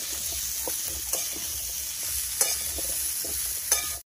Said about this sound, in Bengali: এইভাবে নাড়িয়ে নাড়িয়ে সবজিটা ভেজে নেব